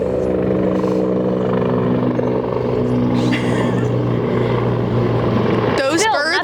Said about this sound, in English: after we allow the helicopter to pass